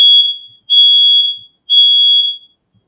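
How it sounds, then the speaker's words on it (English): A household smoke detector sounds three loud, piercing, steady electronic beeps of similar length, evenly spaced with short gaps, close and clear with no talking. "That's my smoke detectors."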